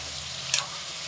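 Chicken curry cooks in a pan with a steady low sizzle, broken by a single brief scrape or clink of a spoon as it is stirred; no voices.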